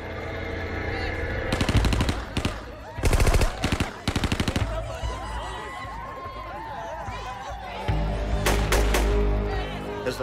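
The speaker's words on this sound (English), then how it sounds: "Someone cuts loose from the door of the hut with an AK-47 on full automatic." Bursts of AK-47 fire on full automatic ring out near a hut at a guerrilla camp, loud rapid volleys in several separate strings amid party noise and background voices.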